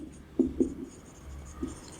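Chalk taps and scrapes on a board during a physics lecture on thermodynamics: a few quiet, brief strokes in a near-silent room.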